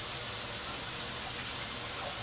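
Water gushes steadily and loudly from a tap as long grain rice is rinsed, a constant close wash of noise with no talking.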